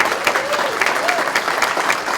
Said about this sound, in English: she deserves a round of applause for her services